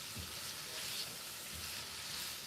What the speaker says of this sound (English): So we're going to stir this around.